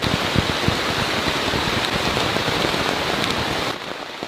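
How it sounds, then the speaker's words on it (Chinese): Heavy torrential rain pours down in the Borneo jungle, a loud, dense, steady hiss of drops on surfaces that eases slightly just before the end, with no talking. "这个雨下得我有点怀疑人生了"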